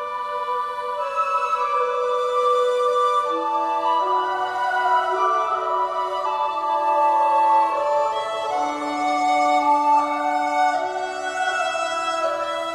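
A sampled choir sings a sustained counterpoint line in a dense, heavily compressed orchestral mix, originally written for brass, with overlapping held voices and shifting harmonies at a steady, loud level throughout, no talking.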